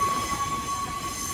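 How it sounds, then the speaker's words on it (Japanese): Belmonta tourist train rolls over track points inside Takaoka station, heard up close through an open window: a brief, steady rumble of wheels on rail with a thin, sustained squeal above it. "ベルモンタは大きく蛇行しながら右端の氷見線7番ホームに入るため、左の線路から右へ右へと線路のポイントを越えていきます。"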